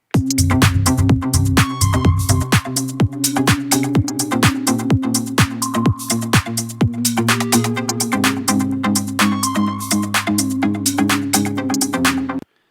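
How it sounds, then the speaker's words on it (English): A song's bridge section plays with a dense full mix of drums, bass and synths, with an added guitar melody climbing upward, loud and steady throughout. "we added an extra guitar melody that's ascending to create a happier feeling in the bridge section"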